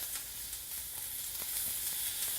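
Beef tenderloin sears in a hot pan, giving a steady, close hissing sizzle that holds evenly throughout without any voices.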